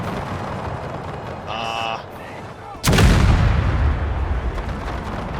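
Artillery gun in a Franco-Prussian War 1870 strategy game fires one sudden, loud booming shot that rolls into a lingering rumble, preceded by a short electronic chime over steady battlefield noise.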